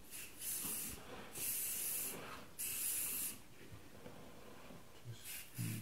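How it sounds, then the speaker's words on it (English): Pink color mist sprays onto a buttercream rose cake in several short hissing bursts separated by pauses, soft and close, with no talking. "this kind of color mist, if you think of it as spray paint"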